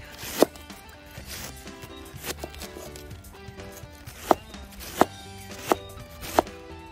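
Sharp knife chops land on a cutting board, a handful of spaced strikes over low background noise while vegetables are cut for homemade egg rolls.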